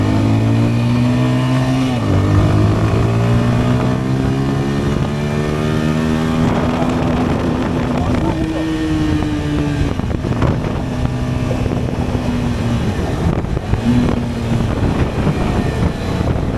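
A Zontes Kiden 200Z motorcycle with a 200 cc engine is heard while riding. The engine drone rises and falls through several gear changes, with wind rush over it and no speech.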